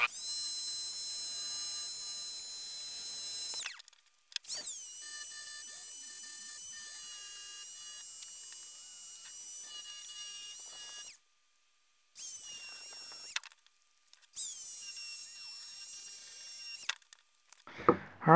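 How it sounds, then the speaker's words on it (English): Dremel rotary tool sanding an acrylic sheet for an LED sign, a steady high-pitched whine running in several sustained bursts separated by short pauses, loud and close with no talking. "It's also easier to work the Dremel pulling it towards you than it is to angle it away from you"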